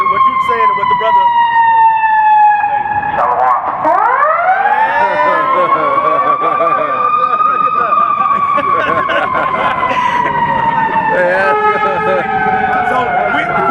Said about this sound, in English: That was a good siren.